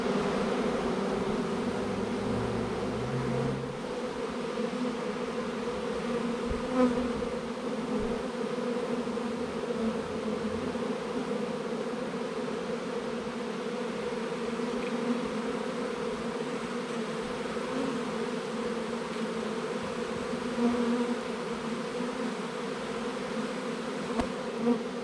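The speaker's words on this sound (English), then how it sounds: "Come on, little queen bee, go into the hive. I don't want you to fly off." A honey bee swarm hums steadily around a hive high up in a tree, a dense continuous buzz of many insects that stays loud and even throughout with no talking.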